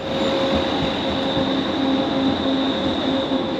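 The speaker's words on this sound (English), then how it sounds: "So they have new trams and old trams." An old tram in Sarajevo rumbles past nearby with a steady roar, a faint high whine and intermittent metallic squeal from the wheels.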